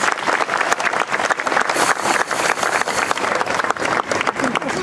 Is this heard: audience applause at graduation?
yes